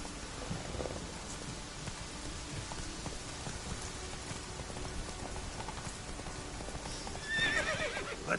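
A horse gallops in the Witcher 3 video game with rhythmic hoofbeats over a rain-like wash of ambience, fairly quiet, with a brief whinny near the end.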